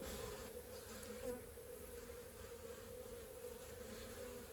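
Honey bees buzz in a dense, steady hum inside an opened mini nuc hive during a winter inspection. The sound is close, continuous and evenly loud throughout.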